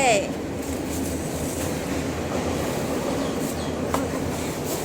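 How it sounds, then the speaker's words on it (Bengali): A train passes by, heard from a rooftop as a steady, broad rumble that holds for the whole stretch at moderate distance. "ট্রেন যাচ্ছে।"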